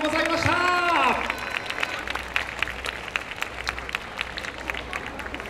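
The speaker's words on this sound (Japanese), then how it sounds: "受賞チームのみんなに本当にね温かい拍手をご来場の皆様ありがとうございます。" Audience applause at the awards ceremony of the Fukukoi Asia Festival 2022, a steady patter of many hands clapping in a large hall, with an amplified voice speaking over the start before the clapping carries on alone.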